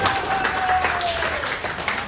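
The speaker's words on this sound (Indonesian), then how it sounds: "tepuk tangan dulu dong." Steady applause from a crowd, a dense wash of clapping that holds at an even level throughout with a faint tone running beneath it.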